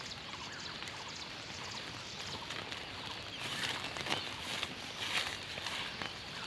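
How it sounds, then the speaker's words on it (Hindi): Raindrops patter down over a grassy farm field being cleared by hand, a soft steady hiss with slightly louder gusts of drops midway, faint and outdoors. "बारिश की बूंदें भी आ रही साथ साथ में"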